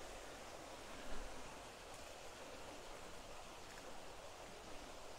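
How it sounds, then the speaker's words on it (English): Steady rushing water of a small creek, murky after recent rain, flows nearby on a Sunshine Coast property, a broad continuous wash with no voices. "We're just about to cross our little creek here,"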